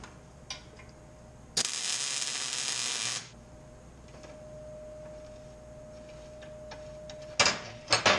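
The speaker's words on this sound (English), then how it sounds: "a lot of high tech beating and clamping and tack welding and more beating" A single short, buzzing tack weld on steel A-arms for a 1964 Impala lasts about a second and a half over a faint steady hum, followed near the end by a couple of sharp metallic knocks.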